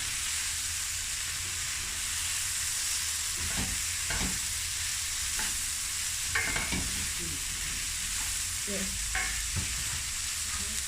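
Snap peas and mixed vegetables sizzle steadily in a hot stir-fry pan, with a constant frying hiss broken by occasional scraping stirs and clinks of the utensil.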